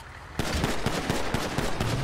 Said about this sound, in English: We got shots fired over here